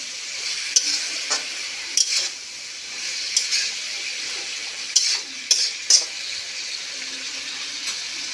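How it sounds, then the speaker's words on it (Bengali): Fried potatoes and tomatoes being stirred into a pumpkin greens curry: a soft continuous sizzle under scattered spoon scrapes and taps against the pan, several distinct knocks, near and with no voices. "কেটে রাখা টমেটোগুলো দিয়ে আমি সেটাকেও ভালো করে এটার সঙ্গে মিশিয়ে"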